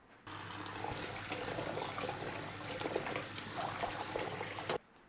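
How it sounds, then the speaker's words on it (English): Running water rinses salted cabbage for kimchi, a steady splashing stream from a tap into a sink that starts abruptly, continues evenly for several seconds, then cuts off. "So all we're going to do is rinse that out."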